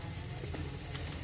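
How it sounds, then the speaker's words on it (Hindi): A tomato and onion tadka sizzles in a pan, a steady close frying hiss with a brief stir partway through and no voices. "टमाटर प्याज का तड़का लगा रही हूँ।"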